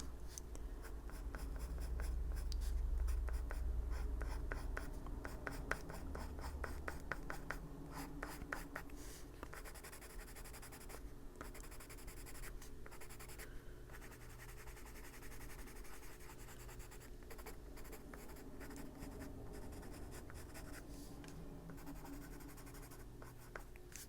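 A colored pencil is worked firmly across textured paper in an adult coloring page, a continuous scratchy rubbing of rapid back-and-forth strokes, close and steady throughout with no talking.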